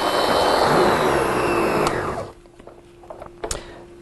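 A Kenmore built-in vacuum's Stealth power brush, an Italian-made head with steel bolts, spins at 5,000 RPM with a loud whirring hum. The whir winds down after about two seconds, leaving a faint tone and a few small clicks.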